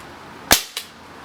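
Umarex Walther SG9000 CO2 BB shotgun fired on single shot: one sharp, loud pop with a quick hissing tail, then a second, fainter pop a moment later, alone with no talk.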